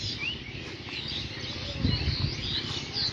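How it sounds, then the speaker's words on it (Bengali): Outdoors, a flock of birds chirps and twitters in a lively, continuous chorus of high calls heard alone without any voices. "পাখির ডাক শোনা যাচ্ছে"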